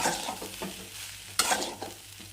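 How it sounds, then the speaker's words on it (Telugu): A spoon stirs and scrapes egg rice around a pan over low flame, giving uneven scraping strokes and one sharper clatter over a soft, faint sizzle. "సిమ్లో పెట్టుకొని కలబెట్టాలి."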